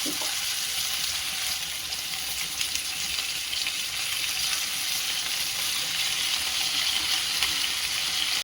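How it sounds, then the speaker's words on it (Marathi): Washed fenugreek leaves go into a hot pan and fry, a dense, even hiss of sizzling moisture that holds steady and loud throughout, with no voices. "त्यामध्ये आधी धुतलेली छान मेथीची भाजी टाकायची।"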